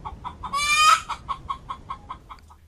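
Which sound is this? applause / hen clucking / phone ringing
hen clucking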